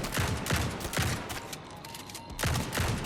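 Shotgun blasts in the gritty DOOM-inspired roguelike game Grind Survivors, several sharp booming shots in quick irregular bursts, loud and close, with a short pause before the final volley.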